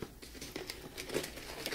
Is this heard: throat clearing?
no